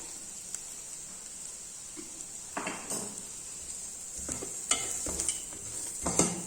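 Onions sautéing in a pan for a Tamil poori masala, with a steady faint sizzle and occasional scraping clinks of a spoon stirring against the pan, close and quiet without speech.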